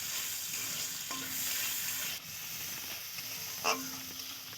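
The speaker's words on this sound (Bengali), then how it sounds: "দেখো পেঁয়াজটা একটু ভাজা ভাজা করে নেব।" Chopped onion and slit green chillies frying in oil, a soft, steady sizzle with a couple of light stirring clinks, heard alone and fairly quiet.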